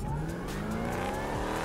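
A car driven in the video game GTA 5, engine droning and shifting pitch with faint tire noise, steady and fairly close with no talk.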